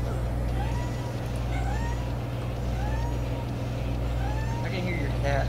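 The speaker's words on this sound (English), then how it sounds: "I can hear your cat." A cat meows several times in rising, drawn-out calls, faint under a constant engine-like hum, with people talking in the background.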